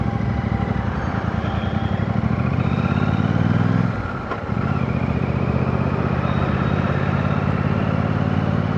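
A Royal Enfield Super Meteor 650 motorcycle runs steadily nearby with a loud, even thump, which drops out briefly partway through before the same engine note returns.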